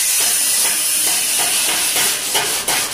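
Spray paint hisses onto a plywood house door in a steady, loud, close spray, with faint rhythmic pulses as the can sweeps back and forth; no one speaks.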